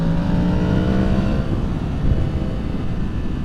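A 2023 Yamaha MT10 motorcycle engine drones smoothly in third gear, a loud close rising hum with harmonic tones climbing steadily as it gathers speed, with steady wind roar and no talking.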